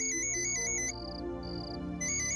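A phone ringtone plays a bright, repeating electronic melody of short beeping notes in quick bursts, loud and close, with no talking over it.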